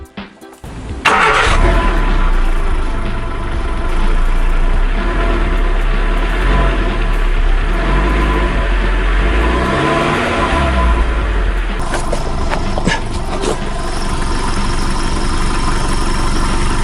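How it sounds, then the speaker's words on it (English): A car with a smoking exhaust cranks and starts after about a second, then settles into a loud, steady idle close by that runs on with slight variations and no one speaking. "So what I'm going to do now is start the car up and see what's going on."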